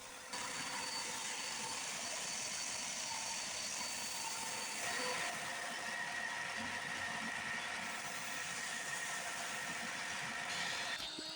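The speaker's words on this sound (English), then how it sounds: "I hit them up at the sander, rounding over the edges and smoothing the faces to 120 grit." A sander rounds over the edges and smooths the faces of scrap wood pieces to 120 grit, producing a loud, steady, continuous whirring drone that runs unbroken throughout with slight shifts in tone.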